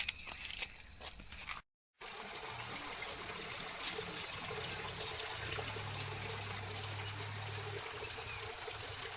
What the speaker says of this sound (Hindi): अरे पानी की आवाज हो जा पूरी